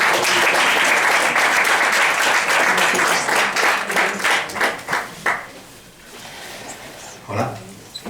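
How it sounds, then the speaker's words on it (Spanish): Audience applause at a human development congress, a dense sustained wash of many hands clapping that thins into scattered claps and fades out, with a brief voice near the end. "Un aplauso."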